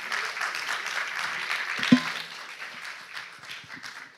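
A church congregation claps for a reverend being welcomed, a moderate spread of applause with one sharp knock partway through, fading somewhat toward the end.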